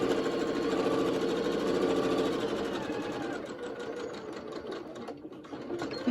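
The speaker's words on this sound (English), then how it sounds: "Now we're gonna sew the 3 unfinished edges together, making sure to backstitch at the start." Sewing machine stitching the three unfinished fabric edges of a pocket mask together, a steady close mechanical whir that runs continuously, easing slightly toward the end.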